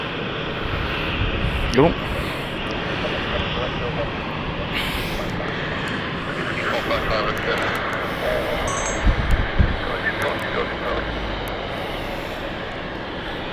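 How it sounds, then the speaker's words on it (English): A German Airways airliner taxis to its parking stand at London City Airport, its engines a steady, moderately distant broadband roar throughout, with a voice briefly exclaiming. "Just watching German Airways parking up"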